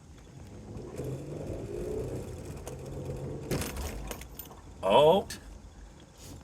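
A car fitted with Furin convertible struts on all four wheels rolls over a large pothole. Low road rumble and a few faint clicks lead to a sudden loud creaking squeal near the end, with a brief exclamation from someone inside.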